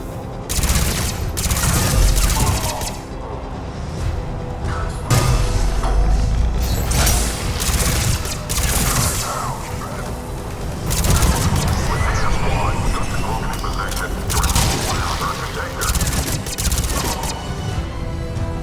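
Heavy gunfire at a checkpoint in Mass Effect 3, loud overlapping bursts, booms and mechanical clatter filling the scene while voices speak over the combat.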